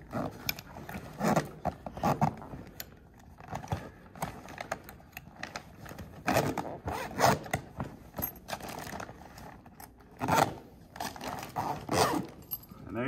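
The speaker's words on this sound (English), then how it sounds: "Zip that side up" Zipper being pulled closed along the side of a MiniCat Guppy inflatable boat's pack-away bag, a series of short rasping zips and handling rustles at close range, with no talk.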